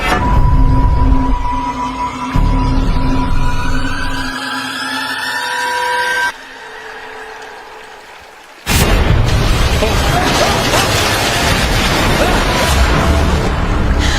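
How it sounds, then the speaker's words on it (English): Explosion in a shark thriller film scene, heavy booming bursts and rumbling roar filling the soundtrack with a tonal whine and hiss, a brief quieter gap, then another loud sustained blast of noise. "It's exploding!"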